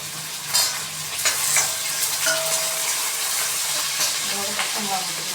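Something frying in a pan until golden brown, with curry leaves close by, gives a steady close sizzle and intermittent scraping stir strokes, while faint background tones sit underneath.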